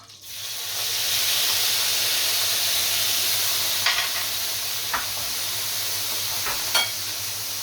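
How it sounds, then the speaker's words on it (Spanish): Prawns drop into hot oil for a seafood paella and sizzle steadily up close, a constant frying hiss with occasional small pops and a spatula stir. "En este mismo aceite vamos a introducir o vamos a añadir las gambas."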